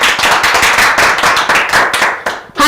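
A group claps loudly and in rhythm to applaud the Mwangi family on a Kenyan entertainment show. The beat stays steady for a few seconds, then breaks off abruptly.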